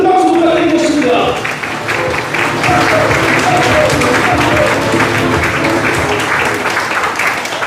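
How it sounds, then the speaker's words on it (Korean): Audience applause at a People Power Party provincial chapter chair inauguration ceremony, loud sustained crowd clapping filling the hall with a thick, even wash of sound, with faint voices mixed in. "여러분 큰 박수 부탁드리겠습니다"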